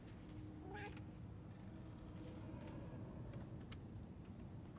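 A cat meows a single time, moderately near, in the video game Murdered: Soul Suspect, set over a steady low rumble of ambient game background noise.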